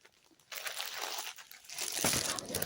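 Plastic binder sleeves being handled among school supplies, giving close, soft crinkling and rustling in two bursts, the second louder, with no talking.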